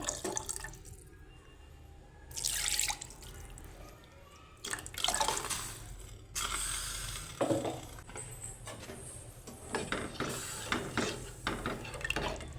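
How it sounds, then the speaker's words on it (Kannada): Water splashing and trickling into a steel mixer grinder jar for a thin Karnataka-style saaru, with intermittent bursts of pouring and clinking of the jar amid kitchen noise, fairly close. "ಈಗ ಮಿಕ್ಸಿ ಜಾರ್ಗೆ ಸ್ವಲ್ಪ ನೀರನ್ನು ಹಾಕ್ಕೊಂಡ್ಬಿಟ್ಟು ಸೇರಿಸ್ಕೊತಾ ಇದ್ದೀನಿ"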